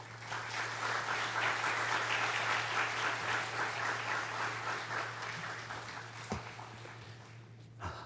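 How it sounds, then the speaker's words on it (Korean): A church congregation at a Korean Wednesday worship service applauds to welcome a pastor to the pulpit: sustained, dense clapping filling the room for several seconds before fading out, over a low steady hum. "영 목사님 나오실 때 큰 박수로 환영해 주시기 바랍니다"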